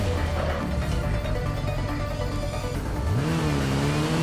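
A car driving through the streets of the Gotham Knights video game gives a steady engine drone that rises into a revving, accelerating whine near the end.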